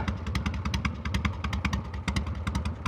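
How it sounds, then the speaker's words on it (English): A 1978 Harley-Davidson FXE Super Glide Shovelhead engine runs with a loose, lumpy rhythm, its non-standard exhaust popping in steady, slightly uneven pulses throughout, close and fairly loud. "Listen to the exhaust. Nothing sounds better than an old shovel."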